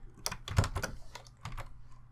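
Quick bursts of keystrokes on a computer keyboard, several short clattering taps in uneven clusters, close and fairly quiet with no talking.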